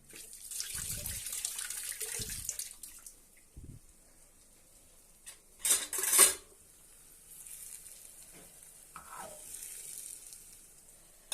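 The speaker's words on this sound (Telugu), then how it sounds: "గిన్నెలు కడుక్కుంటున్నా" A kitchen tap runs while dishes are washed in the sink, a faint, soft flow of water with light clinks of pots and utensils and a brief louder splash midway.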